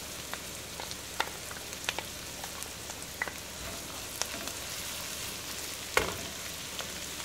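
Minced garlic fries in a pan with beef, a steady close crackling sizzle dotted with small pops and a few louder spatters, and no voices.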